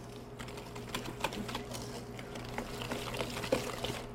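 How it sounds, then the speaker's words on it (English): Hand whisk clicking rapidly against a bowl while cinnamon and ginger are mixed into a pumpkin pie filling, a close, irregular series of light taps without talk. "we're just going to mix that in by hand with my whisk"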